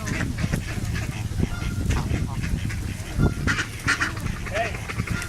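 Geese honk repeatedly at close range in a backyard bird-bonding session, their calls overlapping with a duck-like quacking and steady background noise under occasional human voices.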